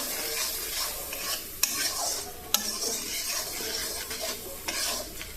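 Pumpkin and malabar spinach with turmeric and salt being stirred and sautéed in a pan, a continuous sizzle with scraping strokes of a spoon and a couple of sharp knocks against the pan.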